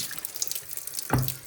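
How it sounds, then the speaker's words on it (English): Water bottles rinsed under a kitchen tap: running water hisses and splashes continuously, ending in a brief gurgling burst as a bottle fills, close and moderately loud with no talking. "so make sure I give them a good rinse out"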